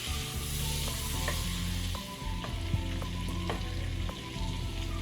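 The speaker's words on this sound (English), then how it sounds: "you just want to add 8 tablespoons of salted butter" Salted butter melting and sizzling in a cooking pot for Jamaican oxtail, a steady close crackling hiss with light intermittent scraping taps.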